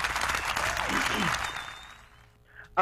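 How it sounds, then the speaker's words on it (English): A studio audience applauds for a radio listener named Lisa on a live talk broadcast, broadband clapping and a short whistle filling the first two seconds before fading, with a brief sharp burst at the end. "How about a round of applause for listener Lisa?"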